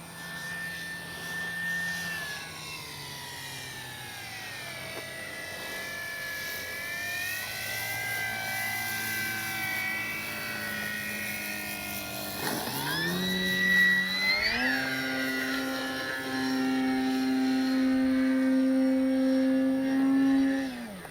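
Electric 3X Flex RV8 60E radio-controlled model airplane flying overhead, its motor whine rising and falling in pitch as it passes, loud and continuous with a steady high tone toward the end.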